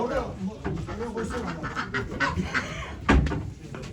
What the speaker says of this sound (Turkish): Ördeklerim.